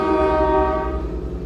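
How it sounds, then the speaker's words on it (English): A train horn sounds alone, loud and sustained, with steady rich harmonic tones over a low rumble that fades slightly toward the end. "was that a train?"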